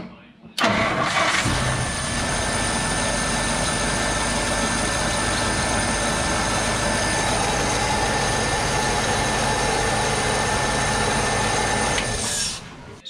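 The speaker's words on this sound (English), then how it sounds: "check out how quick this thing starts up when I hit the key." A 1953 Packard engine that had sat unused for fifteen years cranks briefly and catches at once, then runs at a steady, loud idle close by for about twelve seconds before cutting off.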